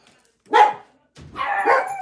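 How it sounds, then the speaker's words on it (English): Dogs barking indoors in an apartment, two short sharp barks, the second drawn out into a rougher yelp, fairly close and loud against a quiet room with no talking. "My dogs are barking in the background."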